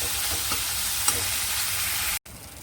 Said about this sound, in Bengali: চিংড়ি মাছগুলোকে ভেজে নিচ্ছি।